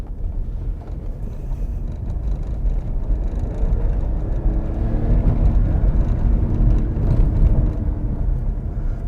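A Hyundai Venue with a 1.0 petrol engine and DCT gearbox revs in manual mode from low to high RPM, a steady, loud, close engine drone that builds gradually with no talking.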